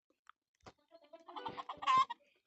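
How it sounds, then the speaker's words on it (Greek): A chicken in a video game lets out a series of soft, scattered clucks that build into a louder squawking burst near the end, heard alone against a quiet background. "Γιατί υπάρχει κότα εδώ πέρα"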